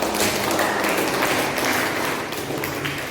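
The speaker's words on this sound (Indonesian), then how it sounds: "kita beri tepuk tangan untuk saudara Hamdan ya" An audience in a teacher-training classroom session applauds a student presenter with dense, steady clapping that lasts about three seconds and eases slightly toward the end.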